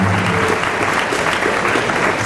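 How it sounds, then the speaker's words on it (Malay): Audience applause for a director at a religious talk event, a loud, dense and continuous crowd clapping with no pauses, with faint voices mixed in underneath. "Berikan tepuk tangan untuk director kita."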